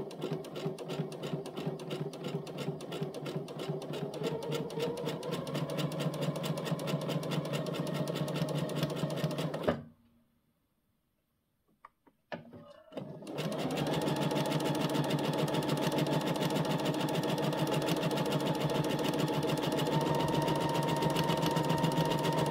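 A sewing machine runs long gathering stitches without backstitching, a steady rapid mechanical whir and clatter up close, stopping for a few seconds with faint clicks before resuming at the same pace.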